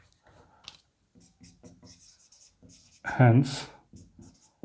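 A pen scratches across paper during a Class 10 maths lesson on polynomials. A teacher talks throughout, and a louder burst of writing stands out near the middle.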